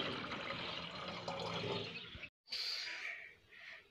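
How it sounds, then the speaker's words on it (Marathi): Cold water runs into a bottle in a steady, close stream, breaks off briefly, then resumes as a thinner, higher trickle that fades slightly toward the end. "आता पाण्याची बाटली भरायला लागते. थंड पाणी, थंड एकदम थंड पाणी."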